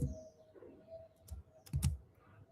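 Quiet computer keyboard typing during a Python programming lecture: a few scattered key clicks with soft gaps between them, close and faint.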